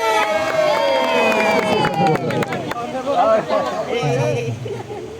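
A crowd at a family gathering awards ceremony in Ambon whoops and cheers, with bursts of clapping and babbling voices throughout, loud and near.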